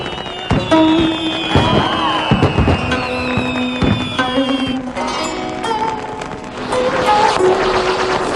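Fireworks bursting repeatedly, sharp cracks and booms with whistling rising trails, over a steady murmur of a crowd outdoors.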